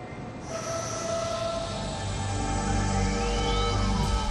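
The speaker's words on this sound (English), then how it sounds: "The maglev train is propelled and braked by a synchronous, long-stator linear motor." A maglev train glides along its guideway, riding on magnetic levitation and driven by a long-stator linear motor, giving a steady rushing roar with a rising whine and tonal hum that grows louder toward the end.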